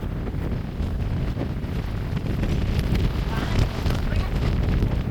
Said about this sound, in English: The wind is hard.